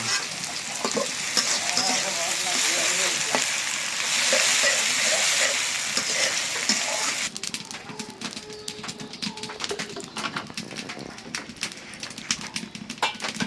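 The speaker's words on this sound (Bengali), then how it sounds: "আগে পেঁয়াজ ভাজা শুরু করবে" Onions fry in a pan with a dense, loud sizzle and crackle that drops to quieter scattered spitting and utensil taps partway through, with faint bird sounds in the background.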